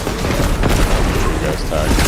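A rocket explodes in a video game shooter with a loud, booming blast and rumbling debris, heard close and heavy while players talk over it.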